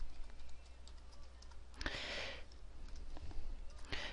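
Typing on a computer keyboard, a run of soft, close key clicks at a fairly steady pace with a brief louder burst partway through, no voices.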